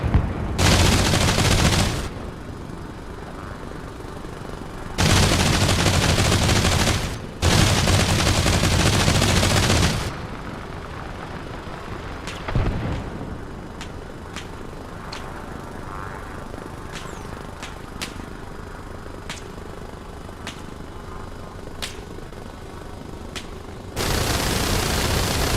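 Gunfire in the military shooter Arma Reforger comes in loud broadband bursts and volleys, with sharp single cracks scattered between them and a steady drone running underneath.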